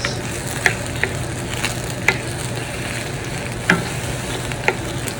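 Top Ramen noodles frying in a pan while being spread apart and stirred, a constant soft sizzle with a handful of light scraping clicks from the utensil spaced a second or so apart.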